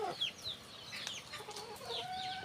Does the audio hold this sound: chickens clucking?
yes